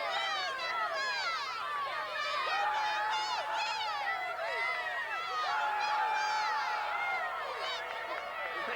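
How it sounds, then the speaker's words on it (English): High school cheerleaders from Gaffney chanting a cheer together at a 1993 playoff football game, a bright rhythmic group of young voices shouting in unison over crowd murmur, fairly close and steady throughout. "They're going to do a cheer for us right now."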